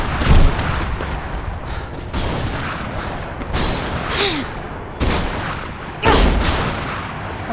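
Enemy gunfire in the video game Mirror's Edge, loud bursts of shots and booms recurring every second or so across the stretch, dense and close with no voices.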